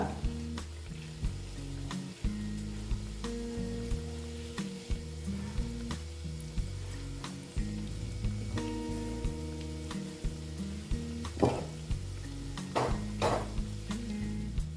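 Flattened rice snacks fry in hot oil with a steady, close sizzle, joined by intermittent stirring and scraping sounds in a home kitchen, with no talking.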